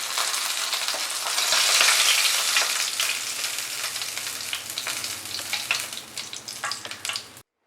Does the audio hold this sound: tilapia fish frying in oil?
yes